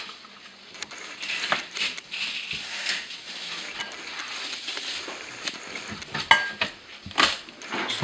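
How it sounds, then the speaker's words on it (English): Irregular knife taps and soft chopping of tomatoes on a cutting board, scattered clicks and scrapes at a modest level, louder bursts near the end. "And Audrey, she's over here chopping up some more tomatoes for our sauce"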